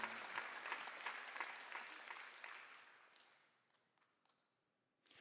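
A church congregation applauds during a Sunday afternoon sermon, a burst of clapping that starts fairly loud and fades away over several seconds, leaving a few scattered claps at the end.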